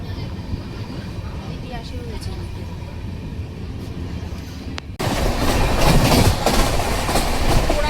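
The Lal Kuan–Howrah Superfast Express rolls along the rails, a steady low rumble of wheels and carriage noise that grows suddenly louder and brighter halfway through, as if a window or door opened, with a voice speaking over it.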